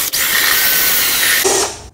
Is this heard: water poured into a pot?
no